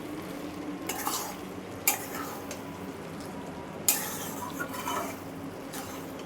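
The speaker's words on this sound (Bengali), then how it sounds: "এবার এটাকে আমি ভালো করে মিশিয়ে নেব।" Fresh cream being stirred into a matar mushroom curry in a pan, with a steady scraping stir and a soft sizzle beneath it and a few sharper clinks of the spoon against the pan.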